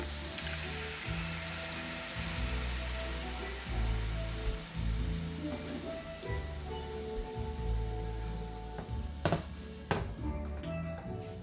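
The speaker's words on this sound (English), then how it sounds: "I'm just gonna let this saute for another 2-3 minutes" Green seasoning sautéing in coconut oil in a pot for a curried crab dish gives a steady, close crackling sizzle that carries on without a break, with faint background music and no talking.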